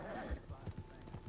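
Horse hooves clip-clop in Red Dead Redemption, a quick, regular trotting rhythm of soft thuds heard up close, with faint game audio behind.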